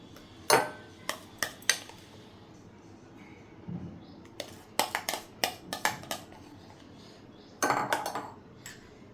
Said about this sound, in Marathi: आता एका बोलमध्ये फणसाचा हा जो पल्प केलेला आहे तो काढून घेते